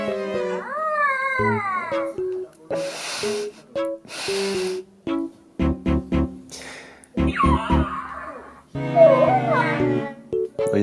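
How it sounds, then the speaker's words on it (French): Several small pet cats meow repeatedly indoors, loud and close, with some drawn-out cries mixed with short bursts and toy-like electronic sounds, and no talk over them. "Est-ce que bébé Yoda, tu es prêt à rencontrer mes petits chats?"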